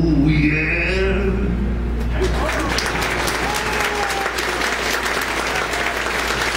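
Loud, sustained audience applause fills the room right after a live song ends, with a few whoops and cheers rising over the steady clapping.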